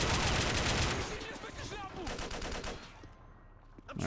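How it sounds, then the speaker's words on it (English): Heavy enemy rifle and machine-gun fire in the Call of Duty: World War 3 mod, with dense overlapping bursts that fade slightly, layered with combat effects. "some Russians putting a lot of fire from that side at us"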